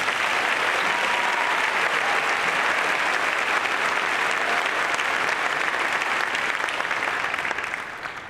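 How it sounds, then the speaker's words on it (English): A large audience at the Louisville Collegiate School graduation applauds in sustained, dense, even clapping that fills the hall and fades away at the end, with no talk over it. "Let's give her a round of applause."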